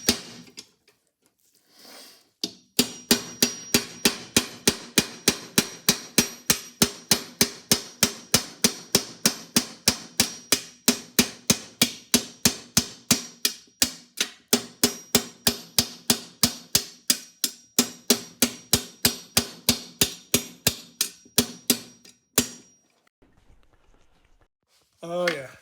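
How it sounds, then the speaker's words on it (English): A small ball peen hammer taps Amberola V gears out of a gear train with dozens of sharp metallic strikes in a steady, fairly even rhythm. The hammering is close and loud and runs for about twenty seconds, with short pauses before and after. "And I'm using a small ball peen."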